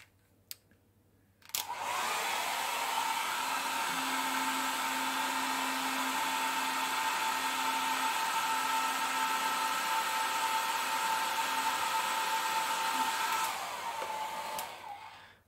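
A KiCA Jet Fan 2 blower switches on after a click and runs at full power with a steady, loud, close whine and rushing air for about twelve seconds, then winds down.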